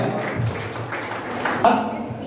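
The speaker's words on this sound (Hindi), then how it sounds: "तालियां बजती रहनी चाहिए।" A short burst of audience applause at a celebration of a transport committee chairman's win in Ulhasnagar, a moderate, even patter of clapping with a faint voice underneath.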